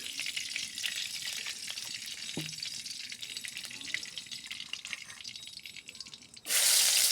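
Oil heating in a wok for a pumpkin and prawn dish gives a steady, moderately loud sizzle with faint drips and stirring, then swells to a louder hiss near the end; no one speaks.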